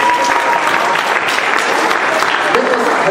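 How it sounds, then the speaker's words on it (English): A talent show crowd claps steadily in loud, dense applause that holds at full strength for a few seconds without letup. "How about a nice round of applause for Nicholas?"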